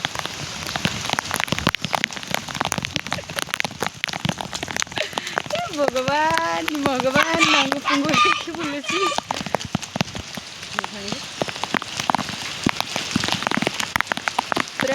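Heavy monsoon rain pours down with wind, a dense, loud, steady hiss and patter throughout, with someone speaking briefly over it midway.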